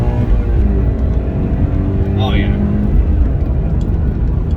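A 2020 Toyota 86 base model pulls hard at high RPM, its engine droning loud and steady inside the cabin while a driver speaks briefly over it.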